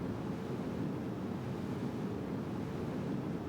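Rocket engines on a spacecraft in Juno: New Origins fire at full throttle, producing a continuous dense roaring rush that stays steady and unbroken throughout at moderate volume.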